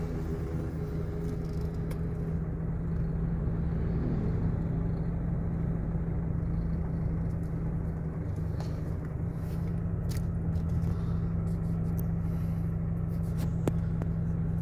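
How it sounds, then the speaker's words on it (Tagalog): Steady road traffic rumbles nearby as many vehicles pass, including tourist buses on the road from Panglao, a continuous low engine drone with no voices. "Daming sasakyan ngayon, no?"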